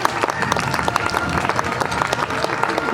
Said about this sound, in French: on peut faire un très bel applaudissement à Darkan qui a rentré un très joli voisin